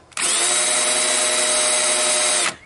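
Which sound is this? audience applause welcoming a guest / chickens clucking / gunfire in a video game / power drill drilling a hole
power drill drilling a hole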